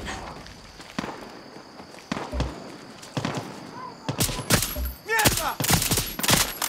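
Gunfire in Far Cry 6 at Fort Santa Maria. Sharp shots and bursts crack out at irregular intervals, growing denser toward the end, with footsteps and movement sounds between them.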